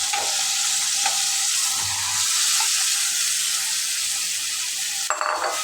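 A taro and shrimp curry fries over medium heat in a pan, giving a steady, loud, close sizzle with a few soft stirring scrapes and no talking.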